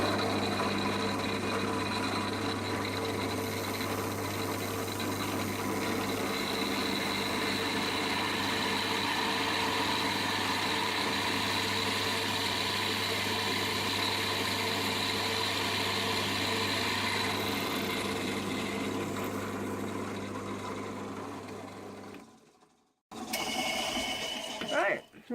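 A drill with a masonry bit runs slowly and steadily through slate, producing a long, even grinding drone close by before it stops abruptly.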